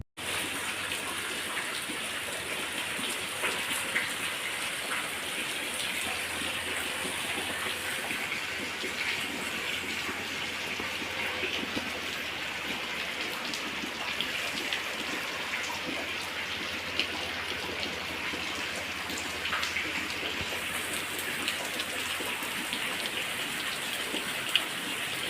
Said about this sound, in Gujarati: વરસાદ અત્યારે ફૂલ શરૂ છે